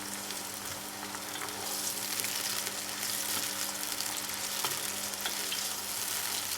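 Onions, tomatoes and green chilies fry hard in a pan as a masala base for potato and egg curry, giving a loud, steady, unbroken sizzle with no voices.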